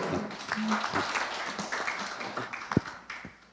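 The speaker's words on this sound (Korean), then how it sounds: "힘찬 박수를 보내주십시오." A forum audience at a peace and unification event applauds, with a sparse patter of clapping and taps that swells briefly and then fades, with faint voices mixed in.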